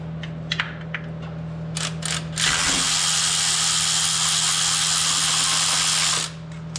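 A power ratchet spinning off bolts on an LS-powered truck, with a few short bursts and clicks before a long continuous whirring run that stops abruptly, over a steady background hum.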